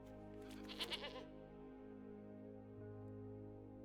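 A goat bleat card sound from the MTG Arena digital card game, a short wavering burst of bleats near the start over a steady low game-music drone, then fading into quiet ambience.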